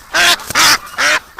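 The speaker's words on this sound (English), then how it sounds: "Oh, duck." A duck being caught as a winter rescue patient quacks loudly three times in an even rhythm, harsh nasal calls close by with short pauses between them.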